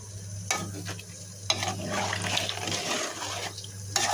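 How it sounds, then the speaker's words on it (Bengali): Water is poured into a pan of chicken and pointed gourd curry that has been cooked down. It gushes and hisses against the hot pan for a few seconds amid soft scraping, up close with no voices. "এবার পানি দিয়ে দিলাম।"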